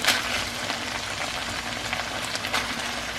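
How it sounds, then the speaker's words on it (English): Green enchilada sauce poured from a pouch into a hot skillet, giving a fizzing sizzle with small crackles that begins sharply and then settles into a steady, close hiss, with no talk. "So I'm going to pour the entire contents of this pouch in."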